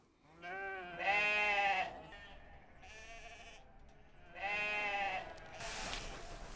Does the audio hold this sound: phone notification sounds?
no